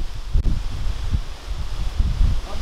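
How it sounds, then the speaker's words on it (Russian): Gusty wind buffets the microphone outdoors at a beekeeping apiary, with low rumbling bursts rising and falling every half second or so, fairly loud and steady throughout with no voices. "Порывы ветра увеличивают."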